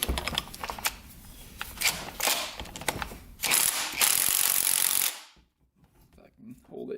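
Ratcheting tool working on the flywheel of a Yamaha YZ80 dirt bike, close clicking pawl bursts and mechanical rattles in uneven spurts, then a sharp louder stretch before falling nearly silent.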